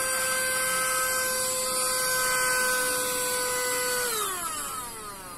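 A small handheld mini vacuum cleaner hums steadily at close range, its motor whine holding constant before slowing and dropping in pitch near the end as it powers down.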